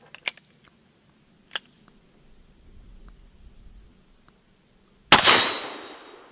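A Ruger GP100 .357 Magnum revolver fires a full-power 125-grain jacketed hollow point load. A single sharp, loud report near the end rings out and decays, preceded by a few faint clicks and quiet outdoor insect chirps.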